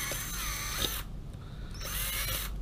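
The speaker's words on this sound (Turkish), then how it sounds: "öncelikle su şişemizin kapak kısmını ortadan deliyorum" A power drill boring through a plastic water bottle cap, whining loudly for a second, pausing, then running again briefly, close up with no talking.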